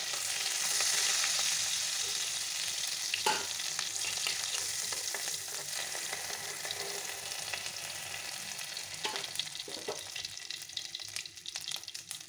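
Fried prawns are lifted from sizzling oil, a soft steady frying hiss at moderate distance with a few scraping clicks of a utensil against the pan.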